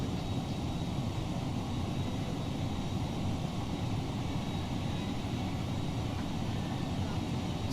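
An FSLabs A321neo jet in Microsoft Flight Simulator 2024 rolls for takeoff, its engines a steady, dense roar that holds evenly throughout without any talk.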